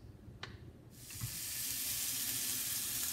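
Vegetarian lomo saltado hits a hot frying pan, with a few light taps before a sudden, loud hiss of sizzling that builds and holds steadily, close by and with no voices.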